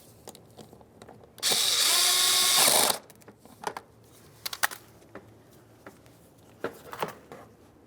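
Power tool run down on an 11mm fender liner mounting nut on a 2003-2011 Mercury Grand Marquis: one loud, close burst of about a second and a half, followed by scattered clicks and light handling knocks.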